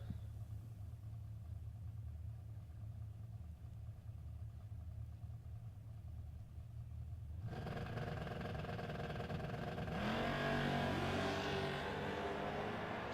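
Drag race cars, one a Firebird, in a no-box 660 shootout: a low engine drone at the start line swells into a louder roar partway through, then rises again into a harsh full-throttle run, heard from a distance.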